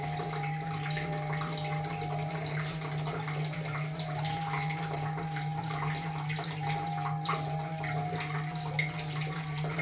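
Water runs steadily through a water ionizer switched to its strong acidic setting, a continuous close hiss and flow with a low steady hum underneath, unbroken for the whole stretch.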